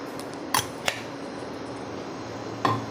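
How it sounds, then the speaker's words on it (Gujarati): A kadai is set down on a gas stove and a spoonful of oil is added while cooking a Gujarati green onion dish, heard as a few sharp metallic clanks and taps spaced across a quiet kitchen hum. "ગેસ ઉપર કઢાઈ લઈ લીધી છે। હવે 1 ચમચો તેલ લઈશું।"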